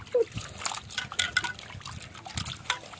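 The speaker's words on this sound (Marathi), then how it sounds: "मंडई पटापटे 2-3 वेळा पाण्यातनं काढून घेऊया, क्लीन करून घेऊया" Goat intestines are swished and rinsed by hand in water, with splashes, trickles and drips coming in short bursts close by, while a voice talks faintly in the background.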